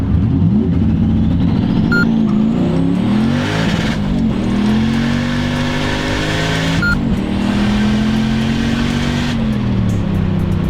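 A Volvo car engine revs hard on a launch-control start with wheelspin, climbing through gears flat-foot shifting with a harsh, sustained roar, pitch rising and dropping as it shifts, loud and close.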